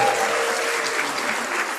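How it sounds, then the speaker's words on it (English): An audience at a climate week launch event cheering and applauding, a dense, steady wash of clapping that holds loud and even throughout. "So can we have a cheer for Kali Akuno?"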